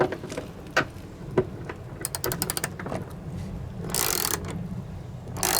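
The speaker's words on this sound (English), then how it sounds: "Nikki is under the vehicle while I use the ratchet up here" A hand ratchet tightens bolts on an insulated van subfloor from above, a series of quick clicking bursts with short pauses between them and a louder scraping rush near the end.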